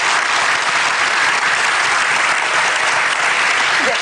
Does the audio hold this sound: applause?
yes